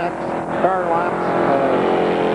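Race cars roar steadily around the Merrittville Speedway oval during a ProStock and Sportsman heat, engines loud and continuous as they pass, with an announcer talking over the noise.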